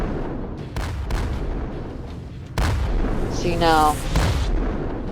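Missiles launched from a Halo ship in the Roblox game Project Stardust, producing loud booming blasts and rumbling in a game soundscape, with a brief spoken comment over the firing.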